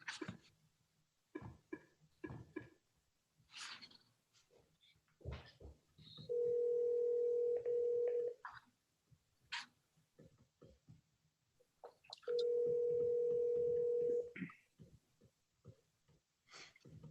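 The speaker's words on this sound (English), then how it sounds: "so let me see if I can get her on the phone." Two long steady telephone tones, each lasting about two seconds, are interleaved with clicks and handling noises while a call is placed, close and clear.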